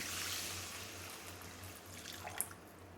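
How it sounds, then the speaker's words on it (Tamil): Tender coconut water poured into jaggery, a soft brief trickle of liquid heard faintly and close by, with no voices. "இந்த வெள்ளத்தில் இளநீர் ஊற்றிக்கிறேன்"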